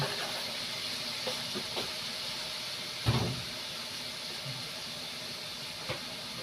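Soy sauce poured into a pan of cooking chicken pastil gives a steady, broad sizzling hiss, fairly quiet, with a brief louder burst partway through and a few faint clicks.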